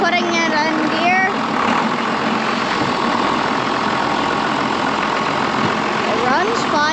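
A tractor engine runs steadily after starting, a mid-pitched rumble with a slightly knocking idle that holds at even loudness throughout, with someone talking over it near the start and end.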